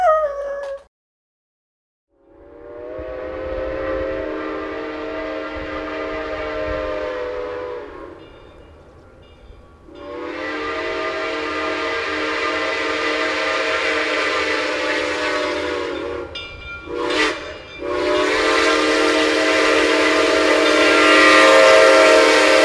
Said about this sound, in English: I got a video of that very famous Reading and Northern Fast Freight